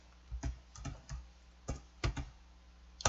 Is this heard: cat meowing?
no